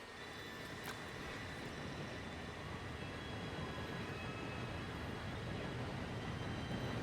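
An approaching steam train in Red Dead Redemption 2 gives a steady, dense rumble with a faint high whine throughout, building slightly louder toward the end, with no talk.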